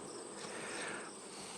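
A steady, dense buzz of honey bees fanning at a hive topped with two honey supers, heard close and continuous with no voices.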